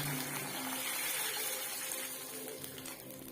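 Water, four tumblers of it, is poured into a pan while making rava kichadi, giving a soft, steady gushing splash that runs for a few seconds, faint and with no one talking.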